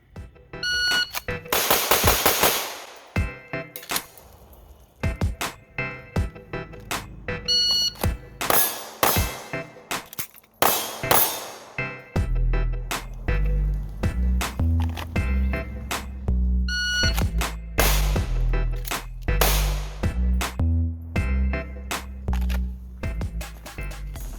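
Handgun shots ring out at a 7-yard shooting drill, sharp loud reports in quick pairs separated by pauses, with a reload break partway through.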